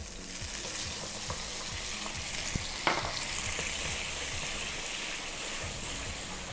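Steady sizzling and spattering of gyoza dumplings frying in a hot pan, with a sharp hiss and crackle burst midway as water hits the oil.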